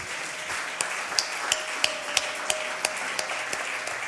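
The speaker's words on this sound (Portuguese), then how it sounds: "Você pode aplaudir a Jesus?" A church congregation applauds in a sustained wash of clapping, with a few sharper, rhythmic claps standing out regularly above the steady crowd sound.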